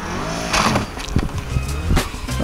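An OSM SM1000 snowmobile revving in deep snow, brief rough engine bursts with rushing, churning noise that swells and fades several times in quick succession.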